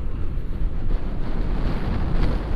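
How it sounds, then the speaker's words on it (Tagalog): Strong wind buffeting a microphone outdoors in Metro Manila, a continuous loud low rumble with gusty swells and no talking. "Ay kaya lang, lakas ng hangin"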